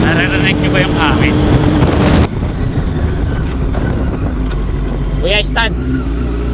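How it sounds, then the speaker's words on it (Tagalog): Strong wind rushes over the microphone of a sport bike riding the Bongabon road from Nueva Ecija toward Aurora, a loud steady roar that dips slightly after a couple of seconds, with brief voices and engine tones over it. "Naririnig niyo ba yung hangin?"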